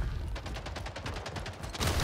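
Rapid gunfire in a portal-based shooter game, a dense run of regularly spaced shots firing close and loud for about two seconds, ending in a heavier burst.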